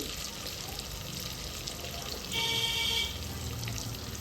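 Onions frying in oil in a pan for a goat trotters curry, a close, steady sizzle throughout with a brief louder hiss and a faint ringing tone partway through.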